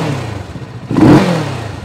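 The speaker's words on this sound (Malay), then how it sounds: "Cuba start dengan engine punya bunyi dulu" A Kawasaki ER6N motorcycle engine starts and revs up close, with a short throaty rev surge near the middle that settles back to a steady idle. No one speaks.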